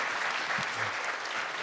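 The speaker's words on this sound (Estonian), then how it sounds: "Teeme Markole suur aplausi." Audience applause for a performer named Marko, a brief continuous burst of clapping from a crowd, fairly soft and even throughout.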